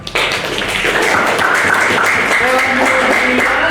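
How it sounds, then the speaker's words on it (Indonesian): Classroom applause in a vocational design lesson, a steady patter of many hands clapping close by for the whole stretch, with faint voices mixed in. "tepuk tangan"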